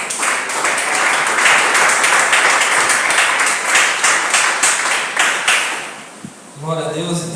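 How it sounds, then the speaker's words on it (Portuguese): A church congregation claps together for several seconds, a loud, dense, rhythmic applause that fades out near the end as voices begin. "Ficar de pé, aplaudir o Senhor"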